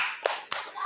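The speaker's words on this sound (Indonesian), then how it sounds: "Ya, tepuk tangan buat Arka" A quick burst of two claps rings out in a primary school classroom as applause for a student, brief and moderately close, with no talking over it.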